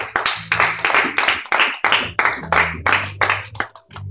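A church congregation claps together in a steady rhythm, sharp repeated hand claps roughly three per second, fairly loud and close, with a low sustained musical tone underneath.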